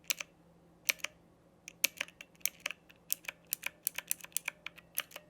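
Tactile buttons on a Divoom Ditoo speaker being clicked: a quiet, close series of sharp, irregular clicks, some in quick pairs, with no talking.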